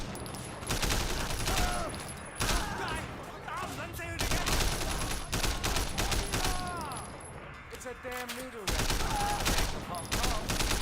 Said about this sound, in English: That rifle is very, very good.